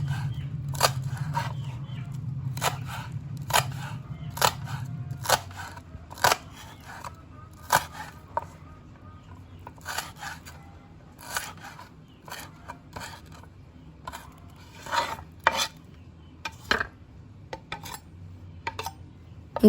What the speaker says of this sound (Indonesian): Ini aku mau potong-potong dulu untuk daun bawangnya teman-teman.